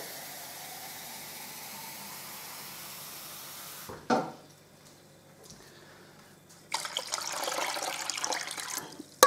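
Water poured from a container into a pot for Vietnamese pot-au-feu broth, a steady splashing, bubbling stream after a quiet start, close and fairly loud, with no talk.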